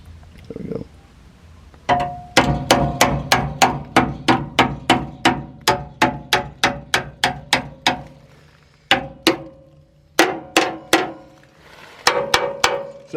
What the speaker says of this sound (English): I'm gonna take this hammer.